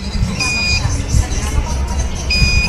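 Two short high-pitched continuity beeps from a multimeter testing a capacitor, spaced apart, over a noisy background with low rumbling and voices.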